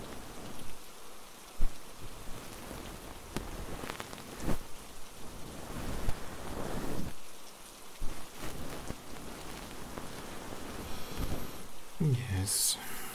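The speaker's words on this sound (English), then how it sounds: "It has been raining a lot lately." Steady rain patters on a surface throughout, with a dull low rumble and occasional louder drops; a faint voice appears underneath.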